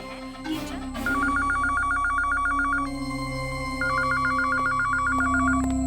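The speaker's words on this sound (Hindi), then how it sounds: "सर, आपका फोन।" Telephone ringing in an office, an electronic trilling ring in two long bursts over a steady background hum.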